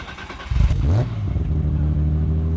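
A Nissan 240SX engine fires up with a short rising rev, then settles into a steady, deep rumbling idle close by.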